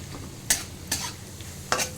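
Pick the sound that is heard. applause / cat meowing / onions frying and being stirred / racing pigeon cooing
onions frying and being stirred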